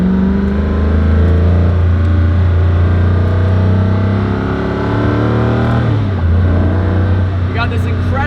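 Koenigsegg Agera RS engine on light throttle, a loud, steady, deep drone with close, constant intensity and a slight pitch dip near the end, heard from inside the car.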